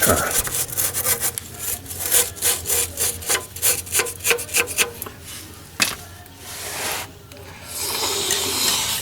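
A small steel wire brush scrubs back and forth across an exhaust flange during a catalytic converter replacement, knocking loose flakes of aluminized coating. The rhythmic, raspy strokes come close and fairly loud, followed by a brief scraping pass.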